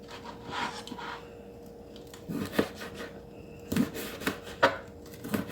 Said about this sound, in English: you want to take the bacon and you want to chop it up.